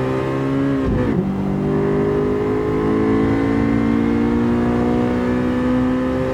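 A Honda Civic SiR engine in Gran Turismo 7 at Tsukuba Circuit drones steadily, drops in pitch at a gear shift near one second, then climbs again under sustained acceleration, loud and close with no talking.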